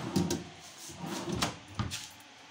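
Drawers of a children's room unit slide open and shut nearby, several short wooden thumps and scrapes spaced irregularly in a quiet room.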